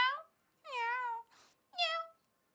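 A person imitates a cat, giving three drawn-out meows and a short purr between them, close and clear in a quiet room.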